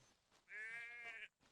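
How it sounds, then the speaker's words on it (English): A single goat in the military video game ArmA 3 gives one clear bleat of about a second, distant and fairly faint against a quiet background. "the fucking goat decides to chime in"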